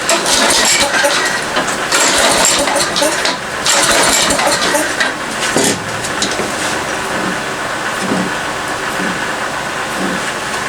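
The small engine of a Poulan Pro push-behind weed trimmer runs loud and ragged close by, a steady rough drone with uneven surges throughout.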